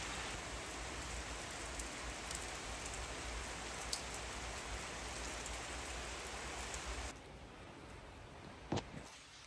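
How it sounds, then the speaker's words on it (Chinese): Rain falls outside a house as a steady, even hiss of drops on surfaces, holding level for most of the stretch before easing slightly, with one brief knock near the end and no voices. "外面的雨声还挺好听"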